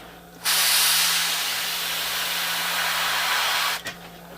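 A steady, close hiss of a spray gun spraying yellow paint runs for about three seconds, then cuts off abruptly, followed by a short puff.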